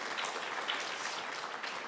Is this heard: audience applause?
yes